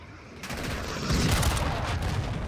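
Sustained automatic gunfire from a shooter video game, with a steady rattling stream of shots that swells louder midway through, close and continuous.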